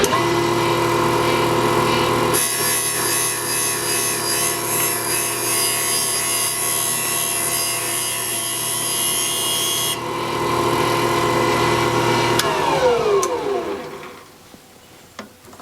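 A valve-cutting machine works an exhaust valve from an air-cooled Porsche 911 cylinder head with a steady whine and grinding hum, shifting pitch partway through, then spins down and fades to near silence.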